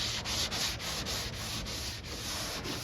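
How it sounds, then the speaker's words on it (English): A sanding block rubs back and forth by hand across a Chevy dually truck bed coated with guide coat, giving a rhythmic, gritty scrape about three strokes per second, close and alone. "I'm going to take my block and I'm going to block sand it."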